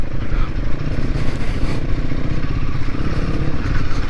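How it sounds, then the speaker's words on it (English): Royal Enfield Himalayan 450 motorcycle riding through sloppy mud, its single-cylinder engine chugging loud and close with a steady throbbing rhythm and clattering over rough ground. "Oh, it's muddy and sloppy, and this bike's just taking it good."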